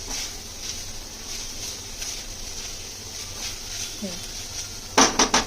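Grated coconut sautés in ghee in a pan as filling for Maharashtrian ukadiche modak, a low steady sizzle with faint stirring, ending in a few sharp metallic clinks of a spoon against the pan.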